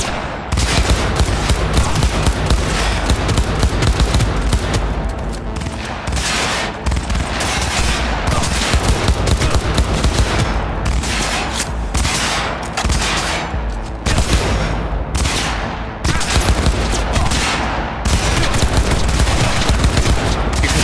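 Sustained loud bursts of automatic gunfire from a gun in the video game Cyberpunk 2077, rapid repeated shots in long volleys with brief pauses between them.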